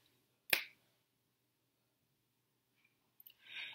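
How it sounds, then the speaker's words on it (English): A single sharp finger snap rings out near the start, close and crisp, followed by near silence and a few faint rustles at the end. "When I snap my fingers"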